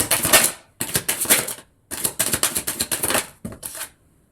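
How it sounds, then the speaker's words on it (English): Rapid riffling and flicking of a deck of tarot cards being shuffled by hand, several quick bursts of crisp papery clatter separated by short pauses, close and fairly loud with no talk. "Get back in there. Shuffle them back in."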